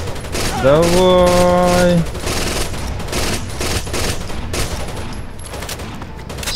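A mounted machine gun in the video game Rainbow Six Vegas 2 fires dense, loud, continuous bursts of automatic gunfire for several seconds, opening with a brief voice over a rising tone.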